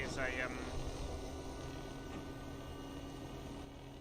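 A steady, low droning aircraft engine hums at moderate level in the X-Plane 12 flight simulator, with a brief chirpy tone near the start.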